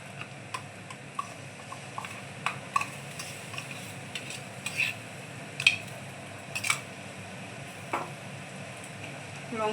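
Fried onions and freshly added spices stirred in a pan for potato curry, a low sizzle under repeated scraping and tapping of a spoon, with sharp clicks scattered throughout.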